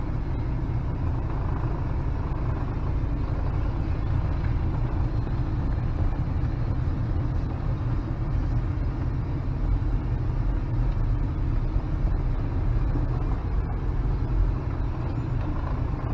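A 1995 Toyota Land Cruiser Prado, warmed up to operating temperature, drives smoothly through reverse and drive with a steady low engine and road rumble throughout, heard from inside the vehicle.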